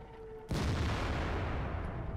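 A tank cannon fires once in World of Tanks, a sudden heavy boom with a long rumbling decay that fills the rest of the moment.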